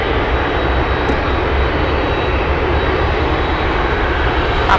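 Aircraft landing on runway 7 right at Anchorage airport, a loud, steady broadband engine roar filling the whole stretch without a break, close and continuous.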